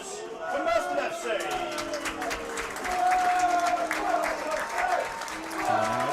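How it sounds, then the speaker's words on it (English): Crowd applause for Merstham FC at the Surrey Senior Cup football final, a steady burst of many hands clapping throughout, mixed with crowd voices and some tonal sound underneath. "please give a big round of applause for Merstham FC."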